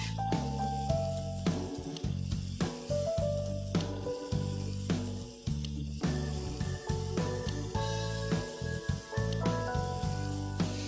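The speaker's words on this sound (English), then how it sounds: "Keep the flame high and just go on browning this mutton." Mutton browns with beaten yogurt in a pan over a high flame, a close, steady sizzle and fry broken by repeated scraping and knocking as the meat is stirred.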